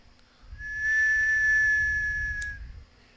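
A person imitates a whistle: a single clear, steady note held for about a second and a half, close and moderately loud over a faint low rumble, with no speech.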